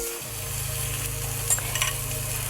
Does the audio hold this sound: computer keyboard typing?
no